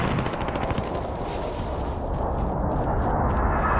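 Rapid automatic gunfire in Call of Duty: Warzone, dense bursts of shots rattling continuously over a thick explosive roar, loud and close with no pause.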